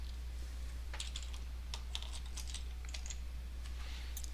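A computer keyboard clatters under quick fingers as a report name is typed in Microsoft Access, with irregular bursts of close, crisp key taps over a low steady hum.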